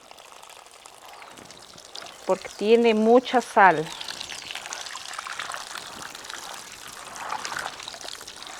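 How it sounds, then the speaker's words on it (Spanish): Water poured generously over salted mullet (lisa) to soak out the salt, a splashing trickle near the start under a spoken line and kitchen chatter. "Vamos a poner con bastante agua."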